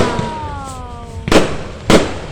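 Fireworks bursting nearby: a whistling rising shell followed by two loud, sharp explosive bangs about half a second apart, with no talk.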